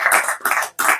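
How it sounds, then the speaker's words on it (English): An audience at a spiritual talk in Australia claps its hands in three short, bright bursts of applause, close and fairly loud, with brief gaps between them. "Clap."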